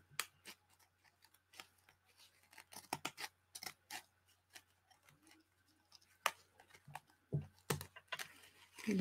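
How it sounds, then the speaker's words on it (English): Scissors snip repeatedly through pink paper edging in quick, irregular cuts, with small rustles and handling sounds between them, close and fairly quiet. "I'm just going to cut that pink edging off around"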